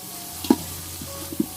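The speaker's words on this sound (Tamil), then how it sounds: "நல்லா வெங்காயத்தை நல்லா பொன் நிறம் வர வரைக்கும் நல்லா வதக்கிக்கோங்க" Onions frying in oil over a stove for chicken biryani, a soft steady sizzle broken by two sharp stirring knocks, no talking.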